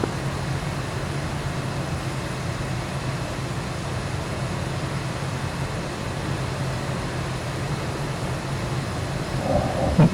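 A military jet in a flight simulator game spooling up for takeoff: a continuous low, steady engine roar and rumble that holds level and swells slightly at the end.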